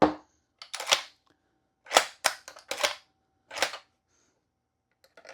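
Sharp clicks and snaps from a VFC HK33 gas blowback airsoft rifle being dry fired, arriving as separate bursts of mechanical clacks spread over several seconds, close and fairly loud with quiet gaps between them.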